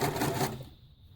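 Sewing machine stitching fabric ruffles, a short dense mechanical whir for about half a second that then cuts off, leaving faint room hiss.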